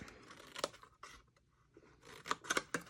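Scissors snip the corners off a small paper box tab in a few quick, close, crisp cuts separated by short pauses, with light paper rustling. No speech.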